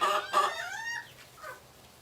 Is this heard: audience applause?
no